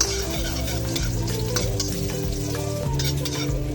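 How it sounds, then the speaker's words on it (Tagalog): Ginger sautés in a pan at the start of a chicken tinola with miswa, a close sizzle overlaid by steady stirring and scraping and some resonant pan hum, with no one speaking. "Ako pag naggigisa, inuuna ko talaga ang luya."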